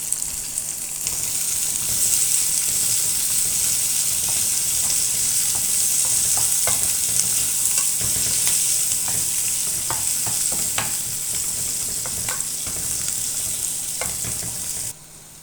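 Onion, green chili, garlic and dried chili sizzle steadily in hot oil, a loud continuous hiss with scattered clicks and taps of stirring throughout before it drops off at the very end.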